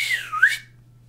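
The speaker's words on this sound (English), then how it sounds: "Sounds like when people go and whistle" A person whistles a quick swooping sweep that dips and then rises, a short bright close whistle ending abruptly in silence.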